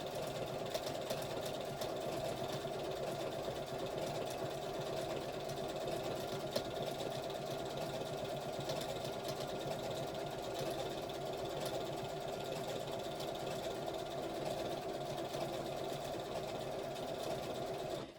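A sewing machine runs without pause through polyester wadding, a steady mechanical whir and hum that stays at one even, fairly quiet level.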